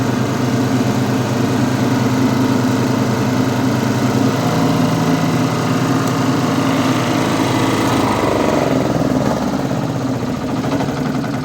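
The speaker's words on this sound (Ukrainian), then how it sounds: "Так що оце такий генератор вам." A GAB-2 generator's engine runs loud and steady, a continuous mechanical drone with an even hum that holds throughout, with no voices over it.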